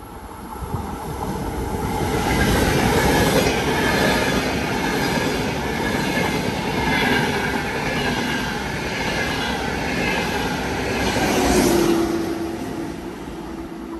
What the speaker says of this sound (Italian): Treno in transito al binario 2